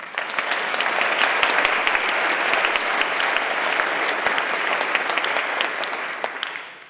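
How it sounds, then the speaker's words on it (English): A full round of applause from the audience at a keynote lecture, dense and sustained clapping filling the hall for several seconds before trailing off at the end. "You might give them all a round of applause."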